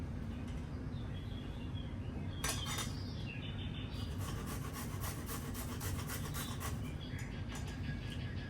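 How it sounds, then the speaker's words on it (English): Vegetables grated by hand on a grater while making Indian palak chicken, a steady close scraping rasp that runs through the whole stretch with a few sharper bright strokes, no talking. "Yeah, and then you just grate them until they get to the bottom."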